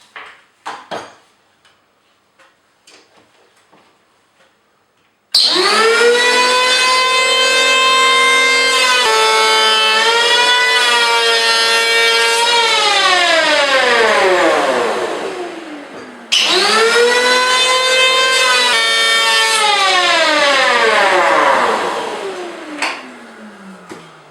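A Hitachi P20SF electric hand planer cuts wood in two long passes, each a loud whining, harmonic-rich roar that starts abruptly, holds steady for several seconds, then winds down.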